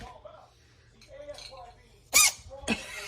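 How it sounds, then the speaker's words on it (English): A house cat gives a sharp, squeaky sneeze followed by a second softer burst, both brief and close, with a person talking quietly before them. "You sneeze? You sound like a squeaky toy."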